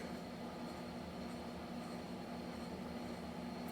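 A steady, moderately quiet rumble with a faint hum carries throughout, like a train rolling along, with no voices.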